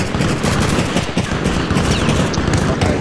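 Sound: artillery HE rounds fired in video game Arma Reforger

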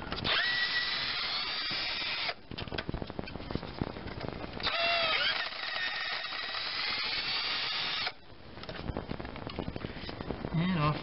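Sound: power tool removing 10 mm nuts from engine timing guide

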